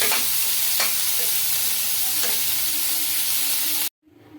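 A cucumber mixture sizzles steadily in a pan on the stove while a spoon stirs it in a few scraping strokes, the hiss cutting off abruptly near the end.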